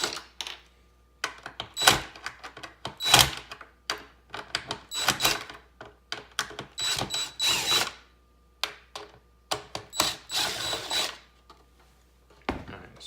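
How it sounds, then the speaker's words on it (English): A cordless power drill backs out screws on a truck tow mirror in short, repeated whirring bursts separated by pauses, with small clicks and clatter of the tool and parts, close up. "I got the drill here to in fact make this a little bit quicker."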